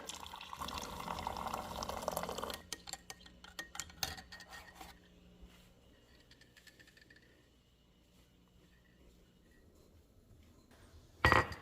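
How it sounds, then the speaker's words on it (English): Chicken bouillon broth is poured over instant mashed potatoes, a steady liquid pour for a few seconds, followed by quieter kitchen clinks and handling, then a short loud clatter at the end. "I'm going to hydrate them with this chicken bouillon broth."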